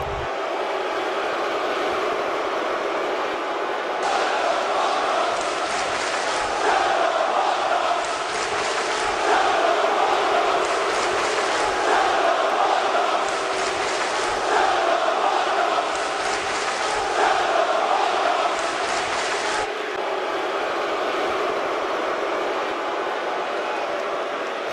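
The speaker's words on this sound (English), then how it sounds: "This hostile Chicago crowd does not like this man." Hostile arena crowd in the wrestling video game WWE 2K24 booing a wrestler in Chicago, a sustained roar of many voices that swells louder for about fifteen seconds under a steady background din.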